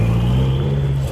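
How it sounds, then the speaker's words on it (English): A car rolls past at a car meet during a breakfast run, its steady low engine drone and rumble loud and close throughout, with no talking. "That's another car."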